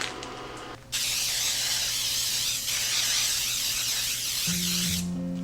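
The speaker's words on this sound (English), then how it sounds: "get my 9 by 13 baking dish, and what we're going to do is just lightly spray it" Cooking spray hisses from a can onto a 9 by 13 baking dish in one continuous, close burst lasting about four seconds, then cuts off.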